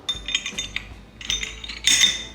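A Smith and Wesson M&P 9 2.0 pistol is reassembled after cleaning, with a quick series of close, light metallic clicks and clinks and a short sliding scrape of parts fitting together.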